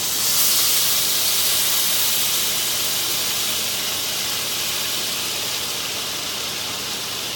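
Steady, loud hissing sizzle of orange juice hitting a hot pan beside seared Atlantic salmon, a bright continuous spray of steam that holds almost unchanged throughout with no voices.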